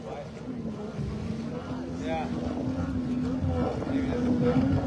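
A racing powerboat in a river marathon passes with a steady, loud engine drone under wind noise, while people talk nearby.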